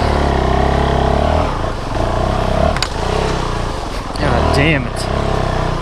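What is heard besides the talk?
Honda CRF450L motorcycle engine stalling at low speed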